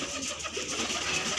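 A large desi pigeon coos softly in a loft, a short low throaty warble close by that lasts only a moment.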